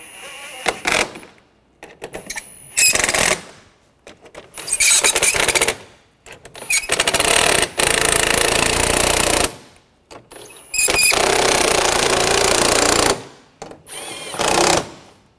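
A power tool drives down the fasteners on front parking assist sensors of a 2013-2019 Ford Escape, in several loud, close bursts of whirring lasting one to two seconds each, separated by short pauses.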